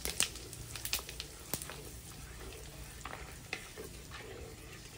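Whole spices with asafoetida roasting in a hot pan for aloo matar, a faint close sizzle with scattered crackles and stirring scrapes, no talking.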